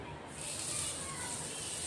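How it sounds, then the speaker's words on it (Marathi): Butter sizzling in a hot tava pan, a steady close hiss that swells after a brief quieter start and holds evenly to the end. "आता बटर टाकून घेतोय आपण."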